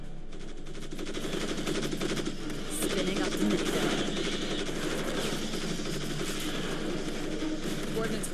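Troopers firing at bugs in Starship Troopers: Terran Command, a sustained crackle of machine-gun bursts and overlapping gunfire at moderate volume, steady for the whole stretch amid battle noise.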